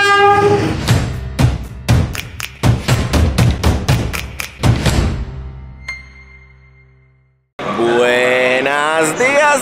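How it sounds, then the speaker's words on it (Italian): A train pulls into Milano Centrale station with a loud burst of heavy rhythmic clacking and thumps up close, which fades to near silence before a horn-like blare cuts in. "sta arrivando il treno"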